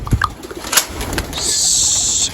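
Pigeons being let out coo softly in short calls up close, followed by a sustained high-pitched whine or squeak lasting about a second.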